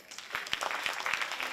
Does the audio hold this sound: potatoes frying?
no